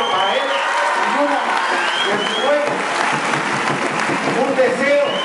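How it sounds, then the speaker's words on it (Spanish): Applause from the crowd at a local food-aid distribution event in Mexico, acknowledging the president, with a voice talking over the clapping throughout and a few scattered cheers. "Un gran aplauso para él."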